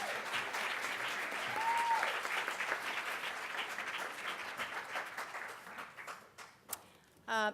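Sustained applause from a banquet audience honoring Hall of Fame inductees, a steady wash of many hands clapping in a large room, fading toward the end with a few isolated claps and a brief whoop.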